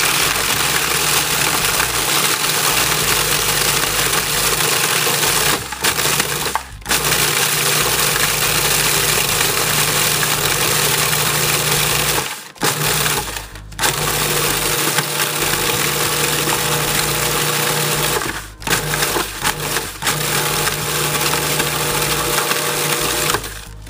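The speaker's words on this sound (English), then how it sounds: "I'm just going to turn on my food processor for a few seconds until they're all ground up into a powdery consistency" A food processor grinding graham crackers into powder, a loud continuous motor whir with a few brief pauses where it stops and restarts.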